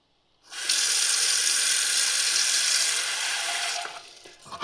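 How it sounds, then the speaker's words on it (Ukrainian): Water runs from a tap into a small pot for cooking, a steady close hiss and splash lasting a few seconds before it stops with a faint clink. "Трошки небагато води так, щоб покрило дно."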